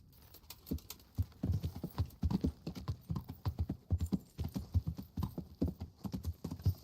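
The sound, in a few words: horse clip-clopping in video game Kingdom Come Deliverance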